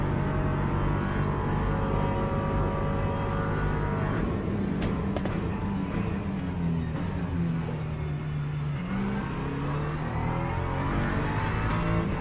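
Race car engine noise from Le Mans Ultimate, a sim racing game, with an LMP2 prototype among the cars: a steady, loud engine drone with shifting pitch as a car approaches and passes close behind.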